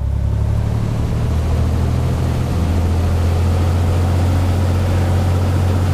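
A Cessna's engine in the Prepar3D flight simulator runs up to about 1800 RPM, a loud, steady droning hum that holds constant throughout.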